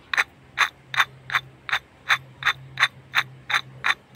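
An old, worn water pump on a 2012 Suzuki Alto K10 gives off a steady run of harsh, regular mechanical clicks, about two to three per second, close and fairly loud, over a faint low hum with no talking.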